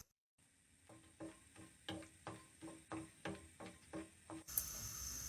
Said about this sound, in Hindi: अब हम इनको हल्का सा फ्राई करेंगे